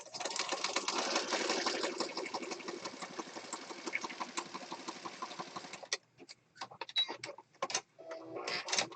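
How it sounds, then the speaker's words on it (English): Sewing machine stitching steadily around journal paper, a dense continuous whir for about six seconds before stopping, followed by scattered handling clicks and rustles. "So that's sewing that all the way around."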